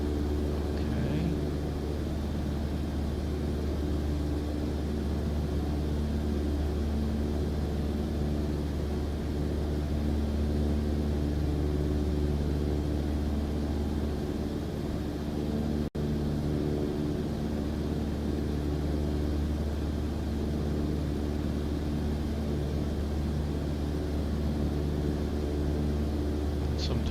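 Steady propeller-plane engine drone from Microsoft Flight Simulator 2024, a constant loud hum with layered low harmonics holding through a circling flight, unchanging and dominant throughout.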